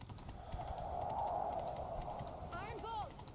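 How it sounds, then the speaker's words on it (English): Horse hooves from The Witcher 3 game set off at a run, a steady clip-clop under continuous game sound, with a neigh-like whinny rising near the end. "Grab a horse, we'll chase him down."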